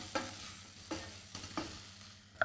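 A pan of food being sautéed and shaken with a few thyme leaves going in, giving soft sizzling under quiet background, with four short clatters or tosses spaced through the moment.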